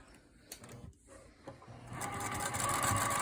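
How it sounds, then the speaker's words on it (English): A sewing machine stitches a quarter-inch seam to make half square triangles for a quilt, starting with a few soft clicks and handling, then building into a steady close motor whir. "sew down this line 1/4 inch on either side to create your half square triangles"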